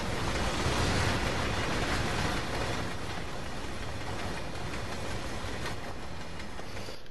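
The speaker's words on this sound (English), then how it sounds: "That's the cargo train that's going." A cargo train passes as a steady, dense rumble and roar that fills the whole stretch, loud and continuous with no clear beginning or end.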